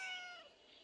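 A cat in the video game Corona Boy lets out a single short, faint meow that fades quickly.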